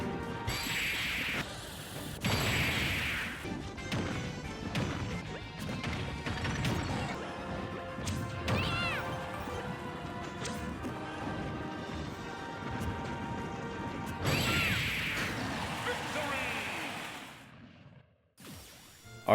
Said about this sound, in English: Let's see if the attack on this HERACROSS in Smash is equal to its destructive capability in Pokemon